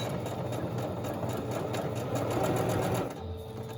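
A Singer sewing machine runs at speed, a close, fast mechanical whirring with rapid needle chatter that holds steady and then slows and stops near the end.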